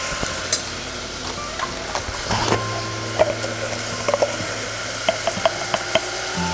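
Onions sizzle in a pan after salt goes in for a Tamil tomato rice, with steady soft frying hiss and scattered clinks and scrapes of stirring, close and moderately loud.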